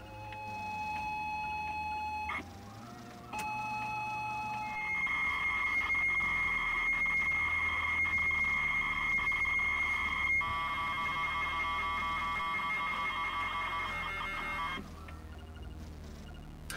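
A ZX Spectrum +2B loads a game from cassette tape. Harsh buzzing data tones and steady pilot whines switch abruptly between pitches over about seventeen seconds, fairly quiet and continuous, with no voices.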